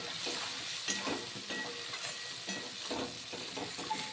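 Spices with figs and papaya fry in a little oil and are stirred, giving a soft continuous sizzle with faint scraping pulses in an irregular rhythm, quiet and close with no voices.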